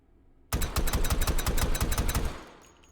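Suppressed Desert Eagle .50 AE pistol with a stock, fired in the H3VR virtual reality game: a rapid string of about a dozen loud, evenly spaced shots that starts abruptly and runs for two seconds before fading.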